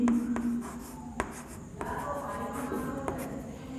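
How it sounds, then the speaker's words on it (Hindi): Pen writing notes on paper in a chemistry lesson on atoms in a unit cell, with soft scratchy strokes and a few sharp taps close by. "तो हम फर्स्ट नोट पॉइंट लिख सकते हैं इसमें"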